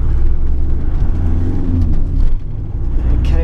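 A car engine hums and rises as the vehicle pulls away, heard from inside, with a steady road rumble and a brief dip midway.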